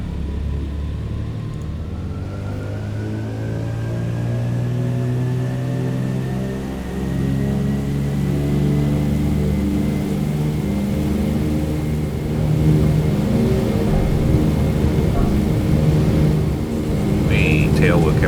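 A DC-3's piston engines roar at full takeoff power, a steady loud droning rumble that builds as the aircraft accelerates down the runway, with a pilot talking over it.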